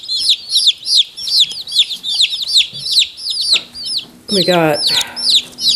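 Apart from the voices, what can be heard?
Cornish cross broiler chicks peeping in box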